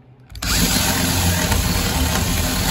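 A 3¼ horsepower Porter Cable router spins up abruptly and holds a loud, steady, high whine as it cuts a window hole through plywood for a truck camper build.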